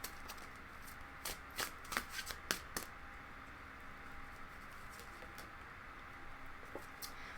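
Tarot cards being shuffled and drawn at a reading, a quick burst of crisp riffling snaps early on followed by faint handling and occasional light flicks over a steady background hiss.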